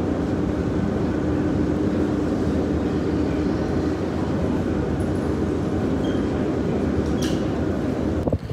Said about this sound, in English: I take the R train that's behind me